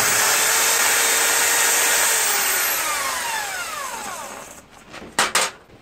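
Sealey 140xt arc welder working on steel, a loud continuous buzzing crackle with shifting tones that fades gradually, then ends in a few sharp bursts and clicks.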